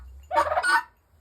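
A single harsh, rattling guinea fowl call bursts out close by on a small farm, a brief raspy chatter lasting under a second against quiet surroundings.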